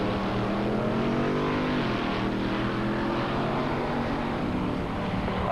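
A 454 Chevelle and a big-block 1955 Chevrolet drag racing make a continuous roaring engine drone at moderate distance, with pitch shifting as they accelerate down the strip.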